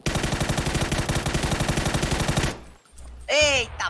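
Rapid automatic M4 rifle fire in a video game rattles steadily for a couple of seconds, then stops; after a short pause a voice briefly calls out.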